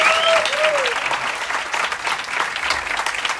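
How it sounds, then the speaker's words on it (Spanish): Audience applause at a Psychobeers talk event, a dense, steady wash of many hands clapping that fills the whole stretch at close range, with a brief whistle-like tone near the start. "así que un fuerte aplauso para Tomás Rodríguez."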